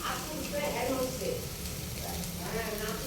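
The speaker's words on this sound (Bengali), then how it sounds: "এই যে এখানে আলু ব্রকলি পেঁয়াজ কলি ভাজা বসিয়েছি" Potato, broccoli and onion stalks fry in a pan with a soft, steady sizzle, while a faint voice talks over it.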